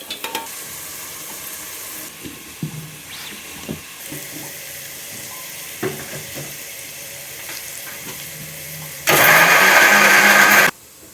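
Mixer grinder whirring through masala spices for a biryani in a home kitchen: a loud, harsh, steady grinding burst of about two seconds near the end, after quieter clatter and kitchen sounds.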